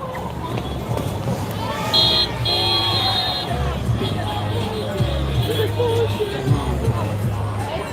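Outdoor protest crowd with a steady murmur of chatter and scattered voices, plus passing traffic and a brief electronic tone, moderately loud and continuous.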